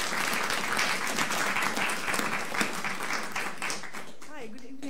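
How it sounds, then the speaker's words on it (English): Audience applause at an evening talk event welcoming a speaker to the stage, steady dense clapping from a sizable crowd that tapers slightly toward the end, with a voice briefly audible near the close. "Give her a warm round of applause."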